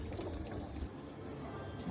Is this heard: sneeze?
no